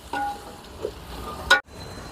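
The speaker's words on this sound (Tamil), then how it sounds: "கொஞ்சம் இறாலை இவ்வளோத்தையும் சேர்த்துட்டு கலந்துடுவோம்." Prawns added to a pan with ginger and garlic and stirred, Jaffna-style home cooking for prawn biryani; a soft sizzle with scraping stir sounds and a sharper clatter near the middle, fairly close and moderate in level, no talking.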